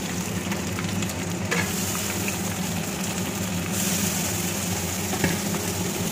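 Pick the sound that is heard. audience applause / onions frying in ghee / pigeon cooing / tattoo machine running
onions frying in ghee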